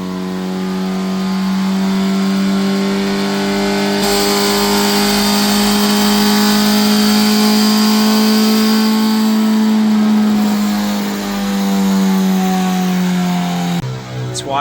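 An Acura Integra engine with Skunk2 cams drones loudly and steadily at high revs on a dyno, rising and falling slightly in pitch, with a sharp change near the end.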